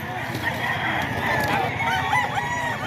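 A gamecock rooster, an SBR Mount Banahaw bird about eight to nine months old, crows once in a drawn-out, wavering call over a busy background hum at a rooster sale in Bocaue.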